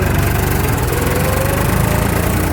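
A tractor engine idles steadily and loudly up close, a constant low diesel rumble with a fast rhythmic chug and no other sounds.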